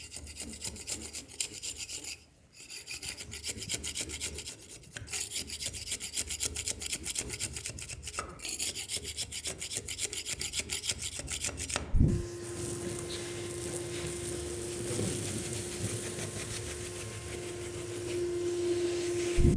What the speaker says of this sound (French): Tu te cales la lame bien à plat.